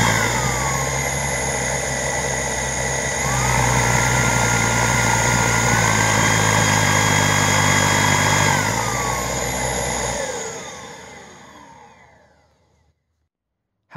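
A Kyvol V20 stick vacuum motor screams at maximum suction, a loud steady whine with tonal harmonics that shift pitch slightly mid-run, then spins down and fades to silence over the last few seconds.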